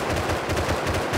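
Rapid automatic gunfire in the video game Rust rattles continuously in a fast, even burst, loud and close.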